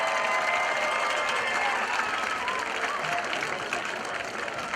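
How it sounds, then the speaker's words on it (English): A stadium crowd applauds the Mount Vernon Alumni Band at a high school football game between Mount Vernon and Watkins Memorial, steady distant clapping with some cheering throughout. "Let's give another round of applause to the Mount Vernon Alumni Band."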